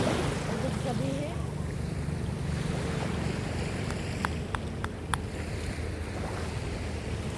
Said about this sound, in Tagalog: lumalapit na yung alon